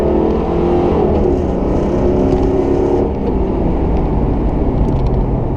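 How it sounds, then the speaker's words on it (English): A 1994 Ford Mustang GT's 5-liter pushrod V8 roars steadily under hard acceleration, a deep continuous rumble with a slight dip in pitch partway through, loud and close. "These old 5-liter push rods just sound so good."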